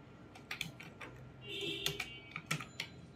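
Keys on a computer keyboard are tapped in short irregular clusters, close and crisp, over a faint hum, with no speech.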